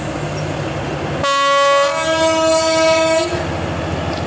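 A Rosnička shunting locomotive of Cargo Slovakia sounds its horn on a turntable at a Bratislava locomotive presentation, one loud, steady two-second blast over the rumble of the engine.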